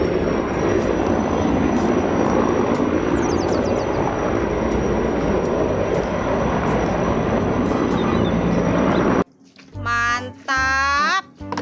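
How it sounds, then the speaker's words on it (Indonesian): Steady whirring rotor and engine drone of a toy helicopter fills most of the clip, then cuts off abruptly to a brief, high, wavering squeal. "helikopter."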